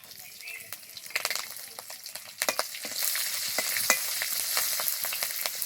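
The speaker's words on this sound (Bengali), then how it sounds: "দেখো ফোড়নটা খুব ভালোভাবে ভেজে নিয়েছি" Dry red chillies and black cumin crackle in hot mustard oil as tempering for a Bengali fish curry, a steady close sizzle with sharp spattering pops that builds louder halfway through.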